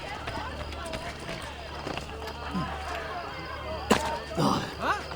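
Horse hooves clip-clop in a steady rhythm with ambience from the video game Assassin's Creed Brotherhood and scattered voices talking over it.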